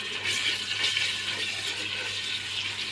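Minced garlic and red and green hot peppers sauté in a pan, giving a steady, soft sizzling hiss throughout with no voices.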